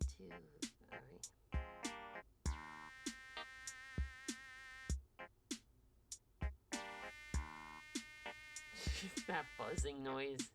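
Whiny, buzzing mosquito-like music during an Animal Crossing villager art stream, rising and falling tones in short repeated phrases with sharp percussive ticks between them, fairly prominent and steady.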